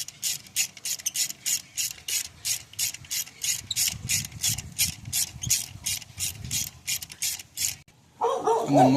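Rapid ratcheting clicks from a hand ratchet turning a spark plug in a 2013 Ford Fusion Hybrid engine, a steady even run of close, crisp clicks, ending with a brief louder rustle.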